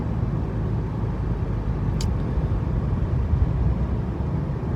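Inside a car driving down a road, a steady low engine and tire rumble carries on throughout, with one brief high click partway through and no talk.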